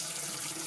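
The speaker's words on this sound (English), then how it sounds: "Running the water." Water gushes steadily from a household tap in a home with no hot water, a continuous broadband hiss that stays loud and even throughout, with no voices.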